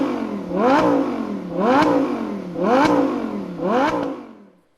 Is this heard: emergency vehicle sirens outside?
no